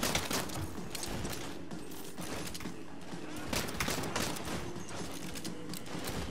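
Dense, continuous gunfire and bursts of shooting in the Saints Row video game, enemies firing in a chaotic fusillade that runs the whole stretch at steady loudness, with mechanical clatter mixed in.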